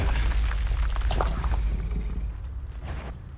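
A Confringo spell blast in Hogwarts Legacy lands as a heavy, booming explosion that opens the clip loud and close, with crackling bursts and a whoosh, then rumbles off and fades over a few seconds with no speech.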